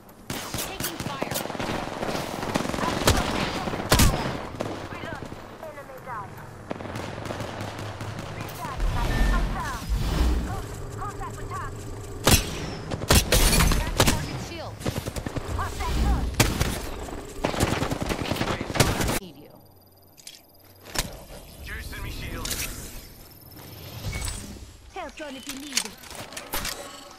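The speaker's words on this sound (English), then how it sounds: "Taking fire." Apex Legends gunfire in a ranked arenas match, repeated bursts of rapid automatic fire and single shots, loud and close, clustered in frantic volleys with brief lulls, mixed with in-game voice callouts.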